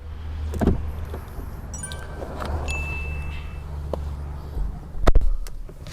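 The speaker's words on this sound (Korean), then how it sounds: "이 버튼을 한번 누르면 여기에서 이 앞시트 등받이와 각도 조절도 됩니다" Whirring electric motor of an Audi S8L power seat adjusting the front seat backrest, a low steady hum inside the car broken by a few clicks and button presses, with a louder knock near the end.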